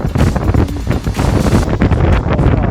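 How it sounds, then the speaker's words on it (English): Strong wind buffets a sailboat out at sea in the English Channel on a cold, rainy day, a loud continuous broadband roar with gusty surges and microphone rumble throughout. "right now it's 10 degrees, it's raining and it's windy"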